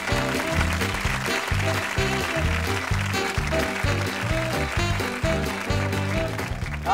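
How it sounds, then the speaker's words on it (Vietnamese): Applause from a TV studio audience rattles beneath loud, upbeat music with a pulsing bass line, continuing steadily throughout. "Mời quý vị dành tràng pháo tay đón chào họ"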